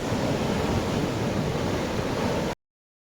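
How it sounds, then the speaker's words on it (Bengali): Sea surf rolling in at Shankarpur beach near Digha, a steady broadband wash of breaking waves with some wind rumble, loud and continuous with no voices. "আর এই হচ্ছে শঙ্করপুর সমুদ্র সৈকত খুবই ভালো লাগছে এবং বড় বড় ঢেউ দিচ্ছে"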